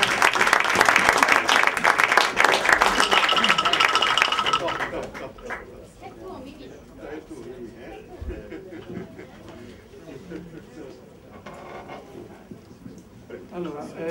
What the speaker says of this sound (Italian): Un applauso alla nostra